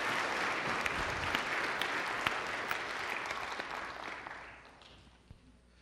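Applause from a church congregation fills the room, a dense steady clatter of many hands that holds strong for several seconds and then tapers away to quiet near the end.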